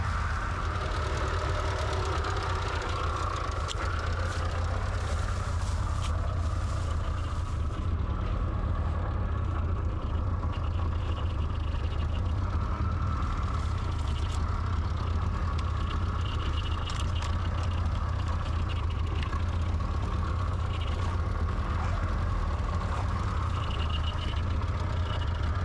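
An old abandoned 1967 car's engine runs steadily at idle, a continuous low rumbling drone that stays loud and even throughout, with no voices.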